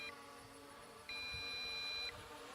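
An MJX Bugs 5W GPS drone gives a low battery warning tone, a thin steady electronic beep holding for about a second amid quiet background hum.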